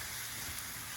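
Onions sizzle as they drop into half a stick of melted real butter in a hot pan, a steady, close, fairly quiet hiss with no pauses over the one second.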